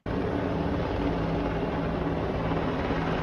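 A continuous loud rotor drone of a helicopter, steady and close, with a low rhythmic thrum and no other sounds.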